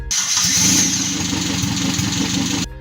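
The 1.5-liter 5K engine of an old Toyota Kijang Super runs at a steady idle, loud and close, a continuous mid-pitched rumble that cuts off sharply at the end.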